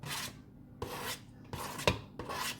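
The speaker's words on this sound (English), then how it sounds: "Scrape it all in there." Salmon and its juice scraped from a container into a bowl: several short rasping scrapes in bursts, close and fairly loud, with no talking.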